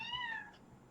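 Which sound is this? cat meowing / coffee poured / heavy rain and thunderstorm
cat meowing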